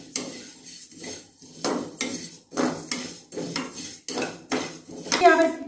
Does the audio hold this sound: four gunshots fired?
no